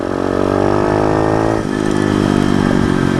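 A dirt bike's engine, just repaired after a cylinder chamber fault, runs loud and close with a steady rough motorcycle drone and a slight dip in revs partway through.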